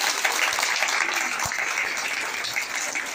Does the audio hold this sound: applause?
yes